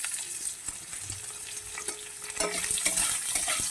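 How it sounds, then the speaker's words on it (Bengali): Chopped medium onion with ginger and garlic sizzles in a kadai, a close, continuous frying crackle with a few light stirring scrapes, no voices. "দেখুন পেঁয়াজটাও হাফ ভাজা হয়ে এসছে"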